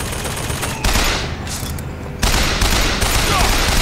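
A loud, sustained barrage of gunfire from a fight in Bioshock Infinite, with dense overlapping shots that surge louder partway through and keep rattling without a pause.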